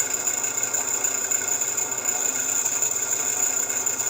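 A scraper takes the final smoothing cut on a segmented wood turning spinning on a lathe, a continuous, even, buzzing hum with a high whine on top, close and unbroken throughout.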